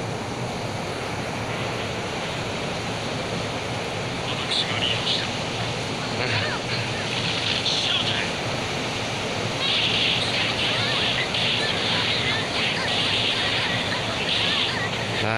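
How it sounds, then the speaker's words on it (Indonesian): Heavy rain falls in a loud, continuous broadband hiss and roar that stays steady throughout with no breaks. "Ini hujannya gede banget di sini."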